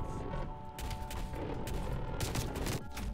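Rapid gunfire and mechanical clatter from a first-person shooter match with the M82 sniper rifle, a dense continuous barrage of loud reports across the whole stretch with no voices.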